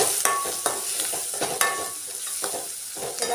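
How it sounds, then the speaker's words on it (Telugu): A spoon stirs turmeric into ginger frying in oil in a pan, with scraping strokes every half second or so over a steady close sizzle. "పసుపు వేసుకొని కలుపుకోవాలండి."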